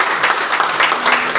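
A church congregation at a New Year service claps together in dense, steady applause, close and full, running unbroken from start to end with no voices standing out.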